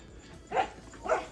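A dog barks twice at a cat, two short sharp barks about half a second apart, moderately close with quiet surroundings.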